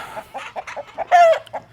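A multicolored rooster gives a rapid run of loud, close clucks, rising into one longer squawk near the end before a final cluck.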